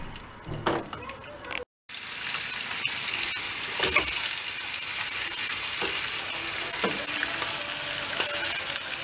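Sucuk slices and cheese frying in a pan: a close, steady sizzle with a short break near the start, then a constant crackle with occasional utensil clicks.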